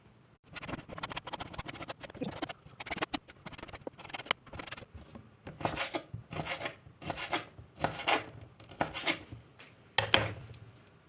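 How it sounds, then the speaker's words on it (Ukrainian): A knife cuts sausage into thin strips on a board for a cabbage salad, making a series of rhythmic scraping, rasping strokes in short bursts, close and fairly quiet. "також нарізаємо соломкою ковбаску"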